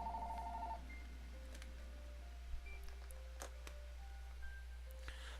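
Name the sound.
phone ringing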